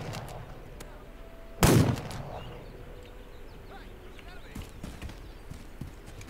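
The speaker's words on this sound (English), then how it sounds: "I hear horses." Horse hooves approach faintly in the video game This Land Is My Land, a soft steady clatter beneath a single loud sharp bang early on.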